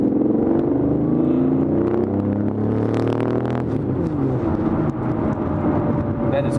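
A Lamborghini Diablo's V12 engine revs loudly, its pitch rising and falling over a few seconds before settling into a deep, rumbling idle nearby.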